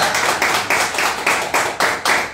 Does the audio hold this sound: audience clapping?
yes